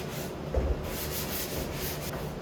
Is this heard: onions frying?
no